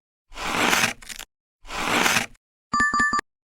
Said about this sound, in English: Sound is scraping ice.